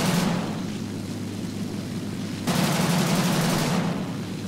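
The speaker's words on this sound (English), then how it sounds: "Able to throw some more light machine gun rounds into his wing as I pass by" Light machine guns on a Bf-109 G-2 fighter in War Thunder, fired as continuous dense bursts over a steady engine drone, with the firing growing louder partway through.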